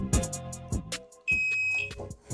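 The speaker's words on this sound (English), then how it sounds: "Turn the beeps back on, press the 8." One sustained electronic microwave oven beep rings out for about half a second, preceded by short clicks and button presses.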